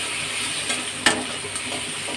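Onions with salt, chili and turmeric powder fry in hot oil as they are stirred, a continuous close sizzle with one sharp scrape of the spatula partway through.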